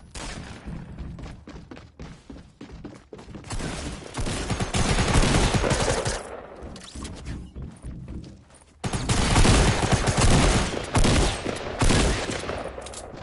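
Shotgun fire in a Fortnite match: dense, chaotic bursts of loud, close blasts and thuds that crowd together into a near-continuous barrage, easing briefly in the middle before surging again.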